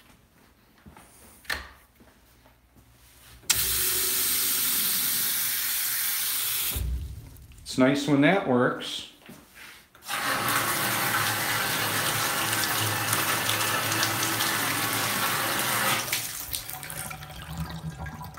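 Water runs loudly and steadily from a tap or into a basin in two long spells, broken by a short gap with clattering handling sounds and brief speech in between.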